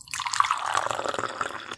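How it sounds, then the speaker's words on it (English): Water pours in a steady trickling stream, with bubbly splashing and dripping close by, fairly soft and heard alone. "Pouring Water"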